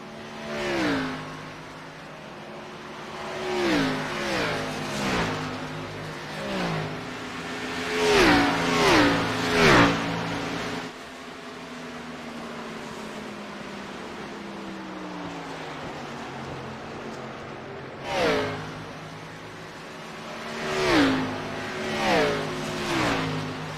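Race cars at Homestead-Miami Speedway in a short-track playoff race, engines roaring past in repeated waves with rising and falling pitch, a lull of steady droning between loud passes.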